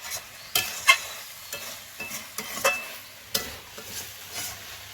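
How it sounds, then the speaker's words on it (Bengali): A spoon scrapes and knocks against a pan as desi chicken curry is stirred, giving sharp irregular clatters over a faint sizzle. "আবার খুলে একটু নাড়িয়ে নিচ্ছি"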